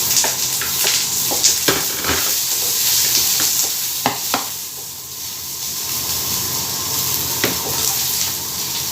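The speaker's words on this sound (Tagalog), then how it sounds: "we need to saute the onion. Put the garlic." Onion and garlic sautéing in a pan for a pork kaldereta, a steady close sizzle with scattered clicks and scrapes from stirring throughout.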